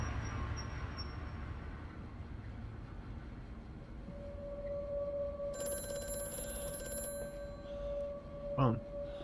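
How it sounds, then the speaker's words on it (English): A telephone rings in a dim mansion setting in the horror video game Amnesia: A Machine For Pigs, a faint tonal ring rising midway over a low ambient drone, with a short sharp sound near the end. "There's the phone? There's the phone."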